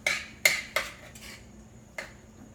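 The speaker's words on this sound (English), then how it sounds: "So I'm just going to stir this up." A utensil clinks against a bowl while grain-free chocolate chunk cookie batter with egg is stirred, giving four sharp knocks: three close together, then one more after a pause.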